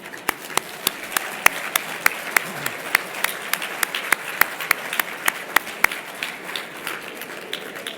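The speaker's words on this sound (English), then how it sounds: "Let's give them a round of applause." A crowd applauds truck drivers with scattered, uneven clapping, sharp individual claps standing out over a softer wash of applause at moderate distance.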